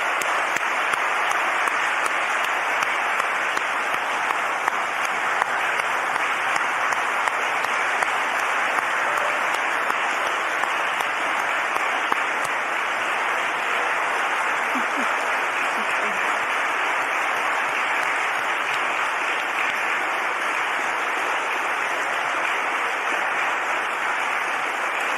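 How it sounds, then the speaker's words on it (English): Sustained, dense audience applause at an alumni day ceremony, honoring two people, a steady loud roar of many hands clapping that continues unbroken for about twenty-five seconds with a faint voice now and then underneath. "join me again in another round of applause for our two honorees"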